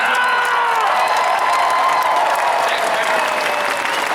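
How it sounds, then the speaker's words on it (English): A Comic-Con panel crowd for Lord of the Rings: The Rings of Power applauds and cheers the series composer, a loud sustained wall of clapping with whoops and voices over the top. "how about a round of applause for series composer Baron McCreary"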